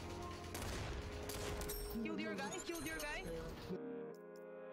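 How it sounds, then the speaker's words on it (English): Rapid, clustered PX4 pistol shots from the game Population: One crack and clatter as they break a player-made build, dense and loud. A voice talks throughout, over game sound effects. "1 star PX4 breaks 1 build with 4 bullets."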